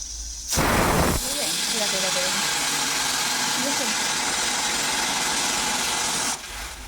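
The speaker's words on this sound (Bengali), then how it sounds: "প্রেসার কুকারে সিটি দিয়ে এরকম করে জল বেরোয়" A pressure cooker on a gas stove lets out a long, loud steady hiss of escaping steam and water that starts with a sharp burst and cuts off near the end, with a voice heard faintly beneath.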